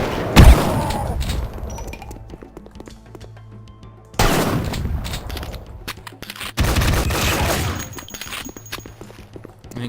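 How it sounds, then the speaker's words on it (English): Loud explosions from RPG rockets and a pipe bomb blowing up alien eggs in Duke Nukem 3D, three heavy blasts spaced a couple of seconds apart, each followed by rumbling debris and crackling gunfire-like bursts. "get out the RPG. Blow up those eggs"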